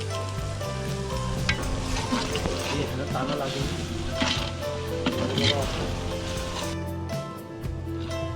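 Chicken masala frying outdoors in a dense forest setting, with turmeric, mint leaves and spices added; a steady close sizzle and stirring run throughout, with people talking over it.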